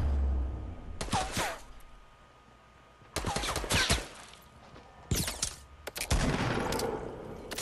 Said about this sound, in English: now there's more guys shooting at me